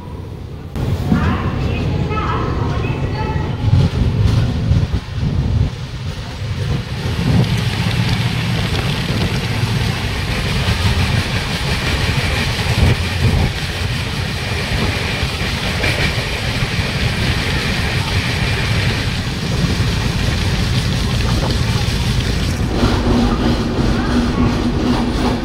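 Samudra Kanya Express train running out of Khurda Road Junction, a loud continuous rumble of wheels and carriage noise with rhythmic clatter throughout, heard from on board.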